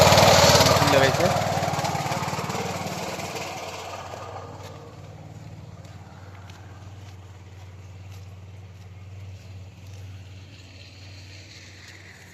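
A machine engine runs steadily beside a paddy field in a hilly picnic area near Kokrajhar, a loud broadband rumble at first that fades to a lower, continuous drone, with a voice talking over it early on.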